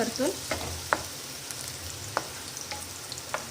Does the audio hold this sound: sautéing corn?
yes